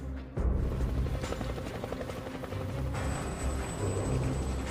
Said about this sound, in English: hearing helicopter noise approaching from the west